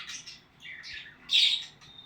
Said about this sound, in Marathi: तर हे आहेत आपले पक्षी.